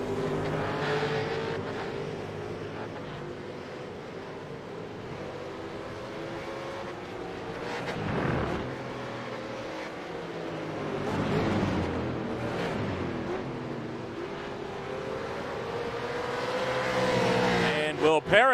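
V8 Supercars race cars roar around Michelin Raceway Road Atlanta, engines rising and falling as cars pass at a distance, steady under continuous race commentary.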